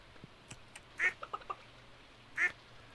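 Ducks on a Stardew Valley farm give a few short nasal quacks, two sharper ones standing out among softer clucks and clicks, moderately near, with no talk over them.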